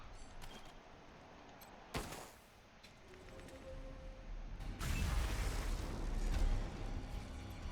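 Gunshots in the video game Wasteland 3, a sharp shot standing out near the start and a louder burst of firing later, over quiet ambient game sound.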